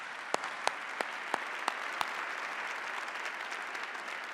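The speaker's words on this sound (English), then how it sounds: "Let's give Rick a round of applause." A crowd applauds at a university event honoring a departing leader named Rick, a few sharp individual claps standing out early before the steady clapping carries on evenly through the rest.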